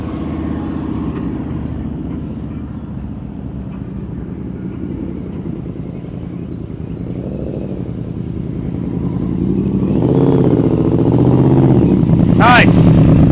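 Motorcycle engine idling and rumbling steadily during slow-speed riding practice around cones, then revving higher toward the end with a rising whine, near and fairly loud.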